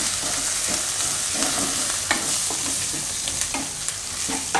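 Gujarati drumstick curry with chili, salt and green coriander being stirred and mixed in a hot pan, a constant close sizzle punctuated by regular scraping strokes of a spoon.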